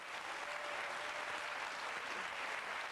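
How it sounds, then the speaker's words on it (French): Studio audience applause on a game show, a steady wash of clapping that stays even throughout, fairly faint and distant. "je vous le souhaite sous un tonnerre d'applaudissements"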